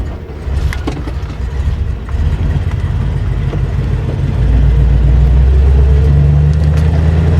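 A 1972 Dodge Dart two-door hardtop on the road, its engine a steady close rumble that thickens and grows louder about halfway through as the car pulls harder, with no voices over it.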